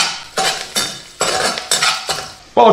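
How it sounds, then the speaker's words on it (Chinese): Chopped scallions frying in hot oil in a wok, with loud bursts of stirring and scraping at a steady rhythm over a light sizzle, and a fresh burst of frying at the end. "起锅烧油，油温5成热，倒入切好的葱花爆香"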